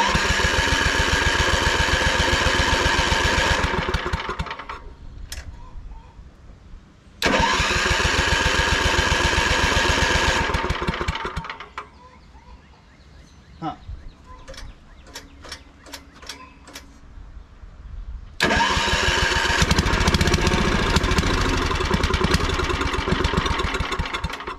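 A 40 year old tiller engine sputters to life, running in loud bursts that drop to a rough, ticking idle between revs, up close with no talk.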